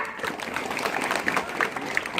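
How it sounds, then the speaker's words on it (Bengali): Steady applause from a gathered audience at a scholarship award ceremony in Khargaon, Moulvibazar, a dense even patter of clapping holding throughout with small peaks of louder claps. "সেজন্য সবার জন্য সবাই হাততালি দিতে পারি না?"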